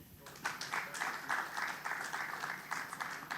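An audience applauds at a health quiz show on sickle cell disease, steady clapping from a crowd filling the whole moment, with a few brighter claps standing out near the front.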